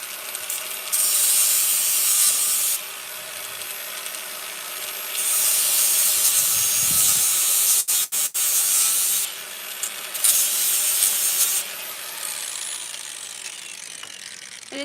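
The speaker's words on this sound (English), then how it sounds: "I didn't think you were taking the rivets off" Rivets are worked off the knives of an old Dearborn baler found in a barn with a ratcheting tool, sounding as loud, close bursts of rapid metallic clicking and grinding that start and stop with short pauses and no talk.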